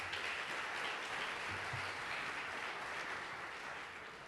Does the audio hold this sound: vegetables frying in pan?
no